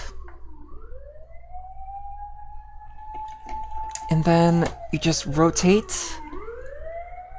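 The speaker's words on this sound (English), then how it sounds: "I am so sorry about the sirens." Emergency vehicle sirens pass outside, sweeping slowly up and down in a long wailing tone at moderate distance, running steadily beneath a person speaking close by.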